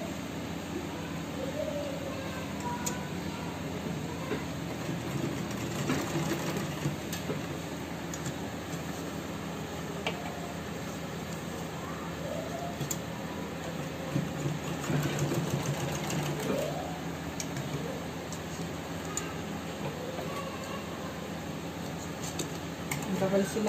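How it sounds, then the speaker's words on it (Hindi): A sewing machine stitches elastic onto the waistband of trousers, making a steady mechanical whirring hum throughout, while someone talks over it. "अब हम इस पर इलास्टिक की सिलाई लगाएंगे"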